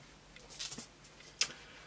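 Four coins shaken inside a small magic trick box give a few light metallic rattles, two short bursts close by and fairly quiet, with no voices.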